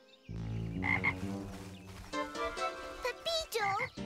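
A cartoon frog belonging to a boy named Pepito croaks in a series of loud, springy, warbling croaks, some rising and falling in pitch, close and alone.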